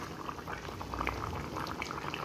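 Mango, potato and fish curry bubbles softly in a covered pot, a faint, continuous simmering burble.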